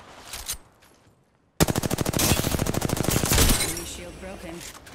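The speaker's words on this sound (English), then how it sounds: "I am taking fire, friends." Automatic gunfire in the video game Apex Legends, a loud rapid burst of evenly spaced shots lasting about two seconds after a quiet pause, trailing into faint game sounds.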